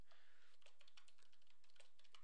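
A password being typed on a computer keyboard: a quick, steady run of light key clicks, close and fairly quiet, with no talk.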